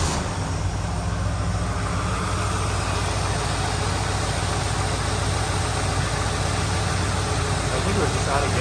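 An old car engine idles steadily, a dense continuous rumble heard up close and loud for the whole stretch, without pause or change in pace.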